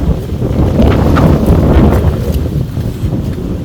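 Strong gusts of wind buffet the microphone outdoors during a spring beehive inspection, a loud continuous rumbling roar with faint rustles on top.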